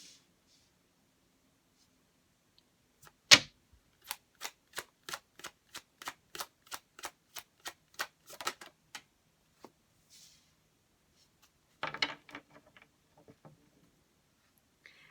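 Tarot cards shuffled and pulled by hand: a burst of riffling, then a steady run of about a dozen crisp, evenly spaced snaps, a few scattered taps and a final rustling flurry, close and quiet with no talking.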